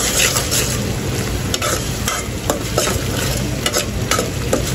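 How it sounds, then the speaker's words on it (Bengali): Ground spices with salt, turmeric, chili and coriander powder frying and being stirred in a pan for a fish curry, a continuous loud sizzle broken by scraping strokes of the spoon. "এখন কিন্তু মশলাটা ভালোভাবে কষিয়ে নেব।"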